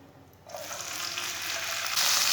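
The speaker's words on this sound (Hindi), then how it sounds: "सौंगी को थोड़ा सा ब्राउन कर लेंगे, ऐसे ऐसे चम्मच चलाते हुए ब्राउन करना।" Semolina (sooji) browns in hot oil in a pan, giving a steady close sizzle with faint spoon stirring that swells and grows slightly louder. No one speaks.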